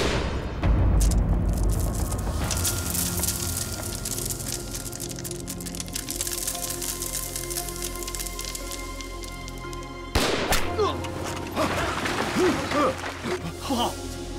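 Gunfire and explosions from a war film about a Japanese raid on an Eighth Route Army arsenal, with booming blasts and sharp bursts mixed under shouted dialogue.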